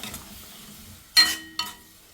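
Ground tomato paste fries in hot oil in a pan for kadala curry, with two short bursts of sizzling and stirring close by, the second quicker than the first, and quiet moments on either side.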